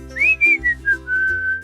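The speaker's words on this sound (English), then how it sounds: "I hear a zookeeper whistling in my ear." A zookeeper whistles a short melodic tune, a rising note followed by several held tones over soft background music, clear and close.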